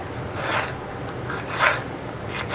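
A knife cuts capsicum into square pieces on a board in a kitchen, giving a few soft rasping and scraping strokes at close range.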